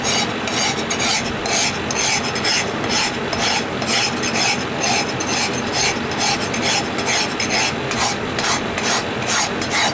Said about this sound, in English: By filing it, you get everything even.